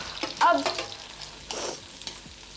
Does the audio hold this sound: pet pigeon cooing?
no